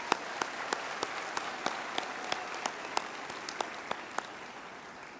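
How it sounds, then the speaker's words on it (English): Distant, fairly quiet applause from an audience at a university graduation ceremony forms a soft, continuous clapping wash, with a few sharper individual claps standing out in a loose rhythm. "I think we can give them a hand of applause"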